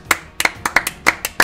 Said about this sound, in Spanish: simplemente queda aplaudirte